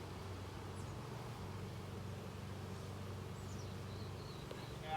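Honey bees hum at their hive during a strong pollen flow, a low, steady drone close by, a dense buzzing that continues throughout with no voices.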